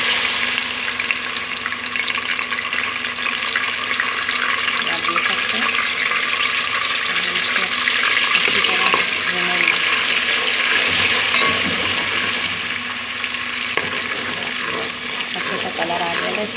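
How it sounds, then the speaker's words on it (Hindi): Ginger garlic paste fries with onions in a pan, for a Shahi Badami Qorma, giving a steady, loud, close sizzle that runs unbroken throughout, with faint stirring scrapes and no voices. "सबसे पहले हम अदरक लहसुन का पेस्ट डालेंगे"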